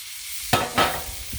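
Sausages rolled on a sizzling Blackstone griddle, two quick scraping rolls over a soft background sizzle, brief and close.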